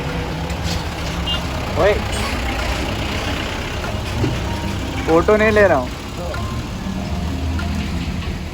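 Busy road traffic with trucks backed up at a landslide site in Kinnaur on the Spiti circuit, engines rumbling steadily with a few horn honks rising above, while people talk nearby.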